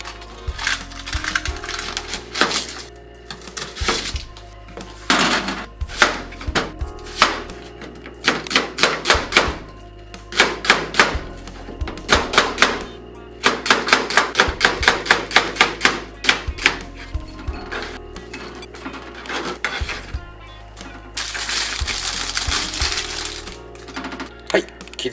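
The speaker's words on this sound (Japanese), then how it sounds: "野菜とかちょっと切っていきますんで" A knife chops vegetables and large Nagasaki-grown bunaquin mushrooms on a cutting board, with sharp taps in steady rapid runs, pausing between batches over a soft background.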